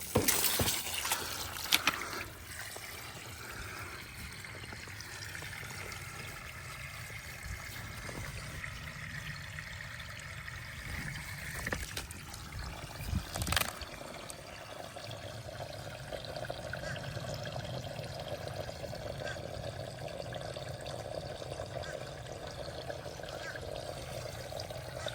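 Water from a garden hose pours and trickles steadily through limestone and sediment into a perforated drain pipe, a continuous close liquid flow with a few knocks near the start.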